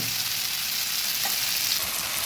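Vegetables fry in a spiced masala for a Bengali katla fish curry, giving a steady, close, even sizzle that crackles throughout with no voices.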